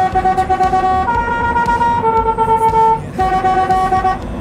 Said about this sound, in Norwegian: med Darud Sandstorm-tuta mi, for å si fra til han at nå kjørte jeg forbi